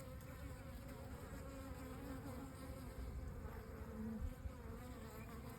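Honeybees buzz steadily at a hive, a faint, continuous droning hum with a few slightly louder passes close by, no talking.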